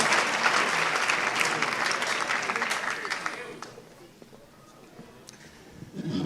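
Applause at a 2016 graduation ceremony for new Hall of Fame recipients: a full, loud crowd clapping for about four seconds, then thinning to scattered claps and fading low before a brief swell at the end.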